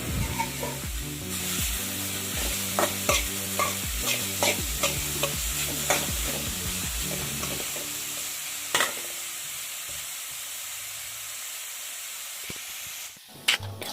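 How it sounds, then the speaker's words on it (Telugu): Grated beetroot fries in hot ghee in a pan, a steady sizzle under rhythmic spatula scrapes and taps that fade out, leaving a quieter hiss and a final clatter. "బీట్రూట్ను పచ్చివాసన పోయేంత వరకు బాగా వేపుకోవాలండి"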